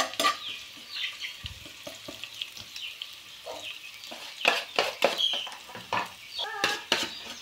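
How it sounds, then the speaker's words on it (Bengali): Onions, chili and ground spices fry in a pan ahead of adding fish, a close sizzle under repeated scraping and clattering stirs of a spatula, louder and busier in the second half. "আমি পেঁয়াজ মরিচ মশলাগুলো ভালোভাবে কষিয়ে নিয়ে নেব"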